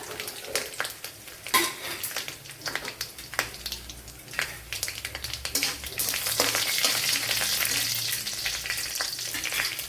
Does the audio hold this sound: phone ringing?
no